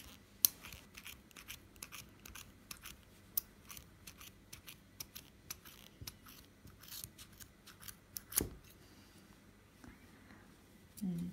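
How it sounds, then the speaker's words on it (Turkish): Scissors snipping through knitting yarn while a pompom is trimmed, a run of crisp close clicks repeating steadily throughout with small handling noises between cuts. "bütün pomponların yapımında bu kısım makasla yapılıyor"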